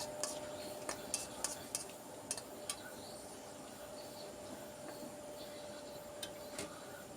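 A spoon clinks and scrapes against a pot while turmeric, cumin powder and chili powder are stirred in for a Bengali pumpkin dal, giving quiet, scattered metallic taps over a low steady background hum.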